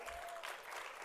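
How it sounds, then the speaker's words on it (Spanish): Audience applause at a Mexican political event announcing poll results for Morena, PT and Verde; a brief, steady wash of clapping, fairly faint and distant, with no talk over it. "Merecen un aplauso generoso"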